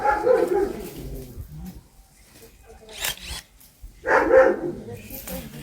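A dog barks at a country cottage garden, close and loud bursts at the start and again near the end, separated by a quieter stretch with small rustling sounds.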